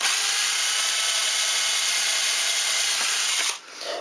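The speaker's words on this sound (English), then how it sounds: "and then rotate it and drill the next hole" A power drill whines steadily and loudly for several seconds, then cuts out near the end as the bit winds down.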